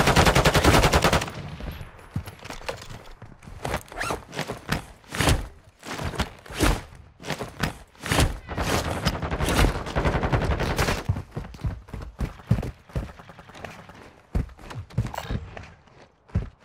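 Rapid automatic gunfire from Call of Duty DMZ, loud and close, in dense bursts of sharp shots with brief pauses, plus occasional footsteps and almost no talk.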